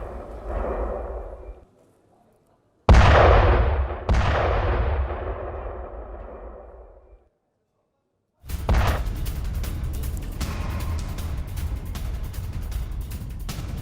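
Night air strikes hit Tehran. Heavy, deep booms with long rumbling decays come between stretches of silence, followed by a sustained, noisy roar of distant blasts.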